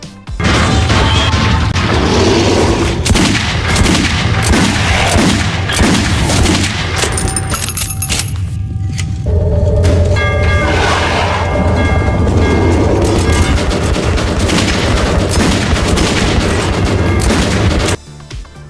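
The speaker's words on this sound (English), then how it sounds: "you'll hear that the audio of the gun shooting is completely out of sync" Video game gunfire from recorded gameplay, a loud, continuous barrage of booming shots and crashes that runs almost without a break for about eighteen seconds before cutting off abruptly.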